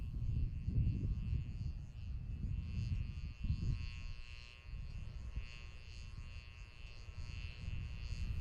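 An RS-25 rocket engine fires during a long hot-fire certification test on a NASA test stand, a steady, faint, distant rumbling roar with a droning buzz that holds throughout.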